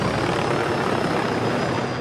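A helicopter in the survival shooter GRBP sounds as a steady, loud rotor and engine drone, holding unbroken for the whole two seconds with no talk over it.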